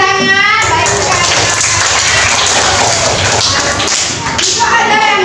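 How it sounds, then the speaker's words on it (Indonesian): A group of children claps their hands together in a classroom, a loud burst of busy, overlapping claps, with an adult voice speaking at the start and end. "Ya, tepuk tangan."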